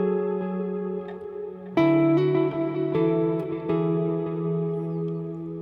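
A Squier Affinity Telecaster played through an AC30 amp gives a shoegaze ambient tone: sustained, reverb-soaked chords with echo tails, and a louder strum near the start followed by several ringing chord changes.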